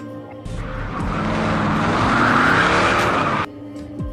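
In an action-film scene, a car roars off with tires screeching in a long, loud skid that swells and then cuts off abruptly, leaving a quieter engine drone.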